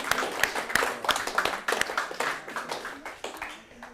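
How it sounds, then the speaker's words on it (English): An audience at a live antiques valuation event gives a short round of applause, with distinct close claps that start brisk and gradually thin out and fade. "Let's give them a round of applause,"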